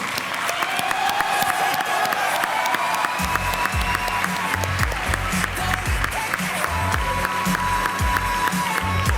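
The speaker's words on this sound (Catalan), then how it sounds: "Un aplaudiment." An audience at a vocational school graduation ceremony breaks into sustained clapping and cheering, the dense applause swelling after a few seconds over quiet background music.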